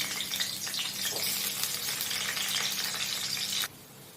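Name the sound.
potatoes frying in hot oil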